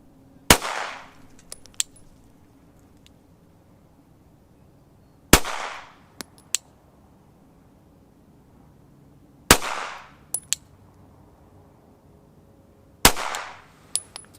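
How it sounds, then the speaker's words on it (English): Four loud, sharp pistol shots fired two-handed at a close-range target during a shooting drill, spaced several seconds apart, each followed by a brief echo and a faint metallic clink. "I'm going to do 4 shots, freestyle, so two-handed, to the upper left-hand rectangle"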